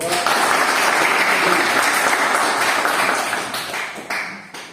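Loud classroom applause from students at a military polytechnic lecture on analog multimeters, a dense burst of clapping that fades toward the end, with faint voices underneath.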